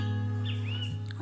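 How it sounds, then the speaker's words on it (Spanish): Small birds chirp with a few thin whistled calls, faint and somewhat distant, over a steady low hum during an outdoor ñandutí lace-weaving session. "hoy tengo concierto de pájaros."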